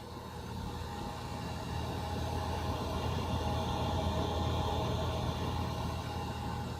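A vapor compression refrigeration compressor runs with a steady low hum and broadband mechanical drone, constant and moderately quiet, with no voices.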